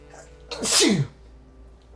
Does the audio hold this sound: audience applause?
no